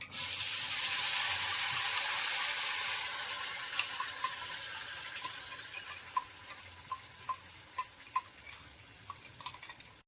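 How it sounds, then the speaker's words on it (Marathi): Cumin and mustard seeds temper in hot oil, starting with a loud, dense sizzle. The sizzle fades gradually, leaving scattered sharp pops and crackles toward the end. "जिरं मोहरीची फोडणी देणार आहोत"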